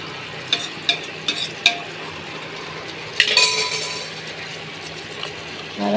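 A spatula stirs tomatoes sautéing with salt in a pan for chicken kuzhambu: a few sharp metal clinks and scrapes, then a steady, fairly quiet sizzle.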